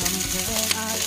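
Rice and cooked shrimp are stir-fried in a pan, giving a steady sizzle with rhythmic scraping and clacking from the utensil and a faint tonal hum beneath.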